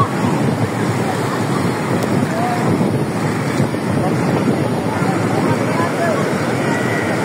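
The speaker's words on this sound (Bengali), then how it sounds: "এই দেখেন কি পরিমাণ ঢেউ আসতেছে" Sea waves roll and break steadily on the beach at Cox's Bazar, a continuous loud wash of surf with heavy wind buffeting the microphone.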